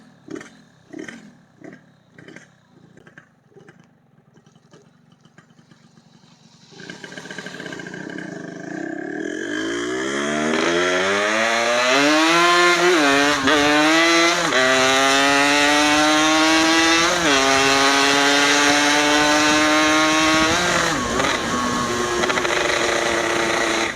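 Yamaha RX King two-stroke motorcycle with a ported cylinder block, ticking over unevenly before the throttle snaps wide open in first gear, revs climbing into a loud, sustained, rising scream with brief dips at each shift.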